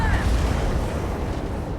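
Turret fire in the space game Starfield comes as heavy, booming low rumbles of shots, loud and close, with no speech heard.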